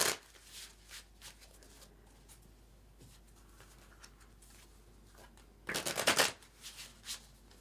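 A deck of tarot cards is shuffled close by, a burst of riffling near the start and a louder, denser run around the sixth second, with softer card handling and quiet gaps in between.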